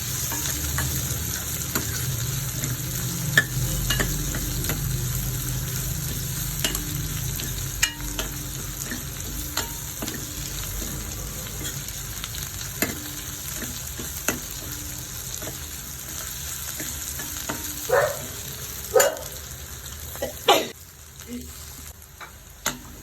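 Finely chopped garlic and three chopped green chillies sautéing in oil, with a continuous close sizzle and intermittent clicks and scrapes of stirring, fading toward the end.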